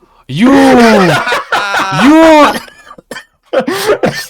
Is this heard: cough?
yes